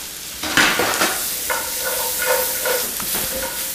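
Onions and garlic sautéing in butter in a pan, tossed: a steady sizzle and hiss with a few scraping, clattering stirs and tosses, close and alone without talk.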